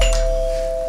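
A doorbell rings at someone's front door with a single steady, clear electronic tone. It holds for under a second and stands out over a faint background.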